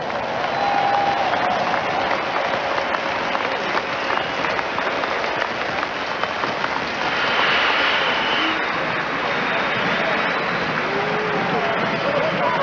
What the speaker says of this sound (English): to really give a round of applause to the Scottish Claymores and Jim Kreiner